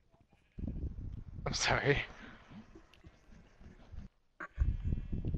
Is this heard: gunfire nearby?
no